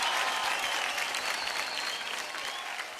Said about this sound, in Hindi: एक बार जोरदार तालियां हमारे सारे म्यूजिशियंस के लिए।